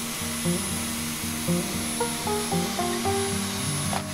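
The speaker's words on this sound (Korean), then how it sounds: "방 안에서 하니 먼지가 날려서 새로 산 청소기로 청소를 해줬습니다." A steady whooshing motor drone, like a vacuum running, continues throughout beneath light background music.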